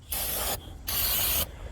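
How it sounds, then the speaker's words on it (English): Two loud bursts of aerosol brake cleaner sprayed onto GM 11-inch drum brake assembly parts of a 1990 Chevy G20 Sportvan, each a steady hiss lasting about half a second with a short pause between, close and alone. "just give it a good spray, brake clean"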